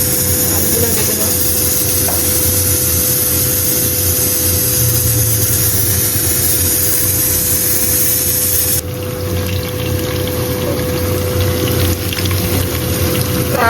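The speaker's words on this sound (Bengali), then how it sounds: "আলুগুলো ভেজে দাও।" Potatoes fry in leftover oil from fried onions, a loud continuous sizzle that holds steady throughout with a slight change in tone partway through.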